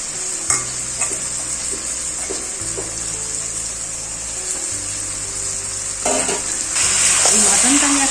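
Spiced mutton frying and being stirred in a pan for a Jamai Shasthi meal, with a steady sizzle and repeated scraping strokes of the spoon throughout, growing louder and hissier near the end.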